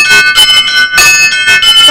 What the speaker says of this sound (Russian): у нас автозвонница, автозвонарь, то есть получается, что мы сейчас звоним на телефон